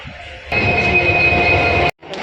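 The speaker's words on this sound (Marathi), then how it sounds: "चला आपली ट्रेन चालली" A loud, close rumble of a Duronto Express train departing a station on the Ratnagiri–Mumbai route, with a steady metallic whine, cutting out briefly before the rumble resumes.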